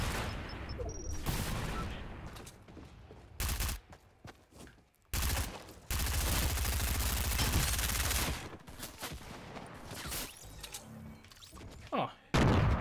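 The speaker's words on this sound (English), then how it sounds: "is somebody shooting at me?" Repeated gunfire in Fortnite on Nintendo Switch, with loud bursts of automatic fire separated by brief pauses, close and dense through most of the stretch, while a player talks in between.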